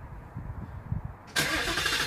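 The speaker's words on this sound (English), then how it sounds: "Let me start a vehicle for you" A 2018 Ford Mustang GT, which has a worrying engine tick, cranks briefly and then fires into a loud, close, steady running note after a second of quiet background rumble.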